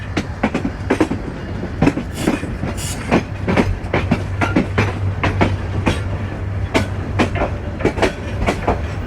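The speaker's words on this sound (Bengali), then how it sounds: "আমাদের ট্রেনটি এই মুহূর্তে লাইন পরিবর্তন করছে।" The Burimari Express passenger train from Dhaka to Patgram changes tracks, its wheels clattering loudly over the points in a quick, irregular clickety-clack beneath a steady low rumble.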